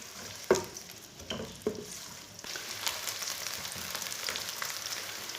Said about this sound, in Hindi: प्याज को मैंने 1-2 मिनट के लिए भून लिया।